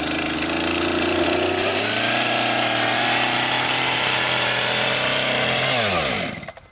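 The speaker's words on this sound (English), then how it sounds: "Wow, 2 pulls after 6 months on sitting on the shelf." Echo chainsaw, started after six months of storage, running loud and close at a steady high-revving roar with a small shift in pitch partway, then winding down and cutting off at the end.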